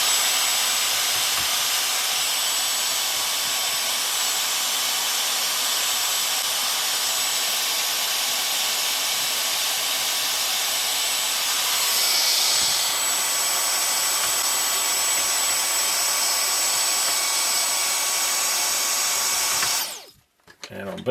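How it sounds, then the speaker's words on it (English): A vacuum cleaner runs close by while a Sharp CD-JX20X boombox is being cleaned, giving a loud, steady, unbroken whine for about twenty seconds before it cuts off abruptly near the end. "Looks like we need the vacuum again."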